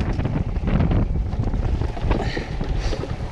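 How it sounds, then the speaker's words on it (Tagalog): Strong wind buffets a fishing boat out on the Pacific, a continuous loud roar with heavy low rumble and microphone gusting filling the whole stretch. "Malakas na ang hangin, mga amigo."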